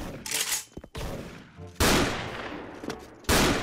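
Gunfire from an M82 Barrett rifle in the Special Force video game comes as several loud, booming shots and bursts in quick succession, with brief quieter gaps between them.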